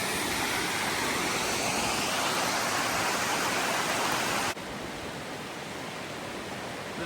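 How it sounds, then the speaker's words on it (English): John Neal Falls in North Carolina pours steadily as a close, loud roar of rushing water that fills the whole scene, dropping slightly in level partway through but never letting up. "final look at John and Neal Falls"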